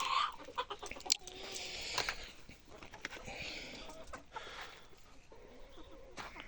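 Kadaknath chickens cluck and call around a free-range desi poultry farm, a soft, scattered chorus of hen sounds at a moderate distance with faint background noise and a brief bit of speech.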